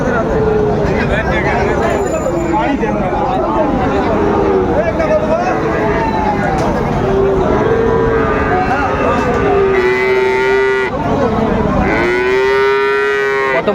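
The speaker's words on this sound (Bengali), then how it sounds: "একটা বাচ্চা ষাঁড় বাচ্চা" A young Friesian or cross-breed bull calf at a busy cattle market moos loudly and repeatedly in long, drawn-out calls, close by, over crowd babble and other livestock.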